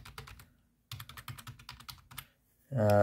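Plastic keys of an HP C2710 wireless keyboard clacking in two quick bursts of close, crisp typing separated by a brief pause, followed by a short bit of voice.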